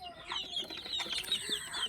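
High, thin peeping of 15-day-old native chicks, several overlapping chirps in quick succession, close by and fairly quiet.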